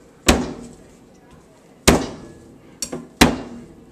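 Two garlic cloves are smashed for a brined rotisserie turkey leg recipe, four sharp whacks on a hard surface, with the third a quick double hit, each ringing briefly before fading.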